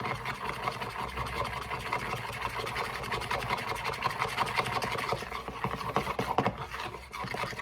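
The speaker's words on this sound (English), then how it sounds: "just mix it till we get a nice like battery kind of paste" Flour paste for bacon potato soup is stirred in a bowl, giving steady close scraping and rubbing that quickens near the end, with a faint low hum underneath and no speech.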